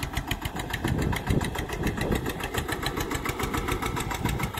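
A single-cylinder Eicher 242 tractor engine runs close by with a steady, rapid, even chugging pulse throughout, loud and alone with no talk.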